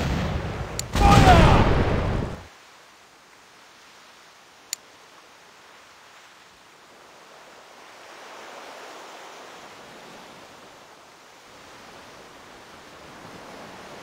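A volley of ship cannons fires in a naval war game, heard as one loud, dense burst of blasts near the start, fading into a low roar like sea and wind.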